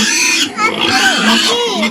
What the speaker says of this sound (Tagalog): Isa man ang baboy.